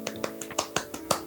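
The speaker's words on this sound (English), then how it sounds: "Golf clap." A few soft, sparse golf claps during a photo shoot at a train depot, about six light separate hits spaced unevenly, close and quiet with no talk.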